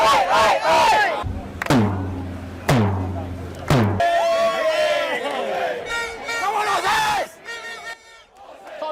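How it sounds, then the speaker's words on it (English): Hundreds of Australia soccer fans chant and cheer loudly while marching from a Santa Clara strip mall to Levi's Stadium, rhythmic shouted calls punctuated by sharp slams and thumps, with voices rising together in a dense, sustained crowd roar. "They then marched to Levi's Stadium, chanting and cheering the entire way there."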